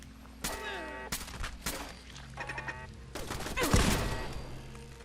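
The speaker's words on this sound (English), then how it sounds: "Ooh, they're shooting at me." Raider gunfire in Fallout 4, with scattered sharp shots and short bursts at moderate distance over a low game hum and brief musical tones, building to a heavier cluster near the end.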